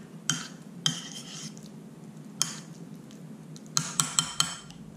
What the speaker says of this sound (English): And now you can add your tomato slices. And give it a little bit of a stir.